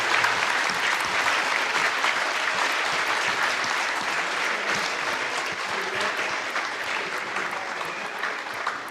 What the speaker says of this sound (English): Once again, one big round of applause for our active and retired military.